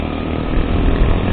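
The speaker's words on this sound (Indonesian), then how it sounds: "Coba kita di RPM tinggi quick shifternya. Oke, masih ada hentakan." KTM 390 Adventure motorcycle engine held at high revs with quick-shifter gear changes, a steady loud droning roar that fills the whole short clip with no gaps.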